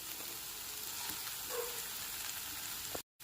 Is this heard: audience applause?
no